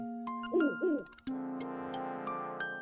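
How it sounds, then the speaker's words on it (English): An owl hoots twice in quick succession in Link's Awakening, a short doubled call followed by sustained in-game musical tones. "Ah, Birdman's back. Hoot hoot."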